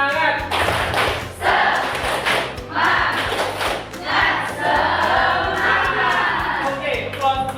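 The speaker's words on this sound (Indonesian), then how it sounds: "Kita tepuk semangat ya. Yuk, tepuk semangat." A class group performs the 'tepuk semangat' spirit clap. Patterned bursts of clapping and thumps come in a rhythmic sequence, mixed with voices chanting along, loud and close.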